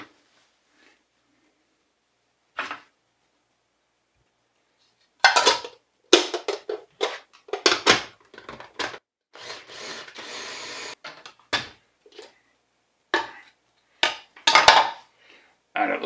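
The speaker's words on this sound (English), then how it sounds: "All right, I'm going to mix this up." A utensil clinks and scrapes against a bowl while chunky sugarless BBQ sauce is mixed with Anaheim and poblano peppers. Scattered, close knocks start after a quiet opening and grow busier and more rhythmic halfway through.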